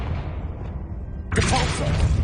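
A Confringo fire spell cast in Hogwarts Legacy, heard as a short whooshing burst that flares suddenly partway through and rumbles on over low game ambience.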